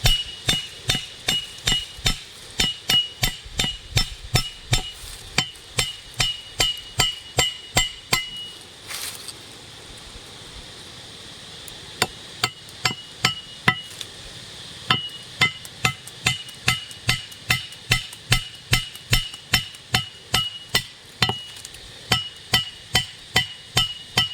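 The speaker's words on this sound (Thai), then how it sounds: "แล้วก็จะตอกลักในสองลักครับพี่น้อง" Wooden stakes are hammered into the ground for a trap, a long run of sharp, evenly spaced blows, briefly pausing midway before the steady pounding resumes, close and loud.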